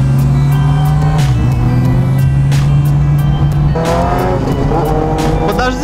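A car pulls out to overtake a bus on a road, its engine tone droning steadily and loud throughout, with brief higher whooshes of passing traffic over the continuous road noise.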